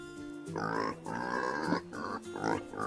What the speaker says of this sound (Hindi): सुअर, पिग। ठीक है पिगी, तुम्हारी बारी।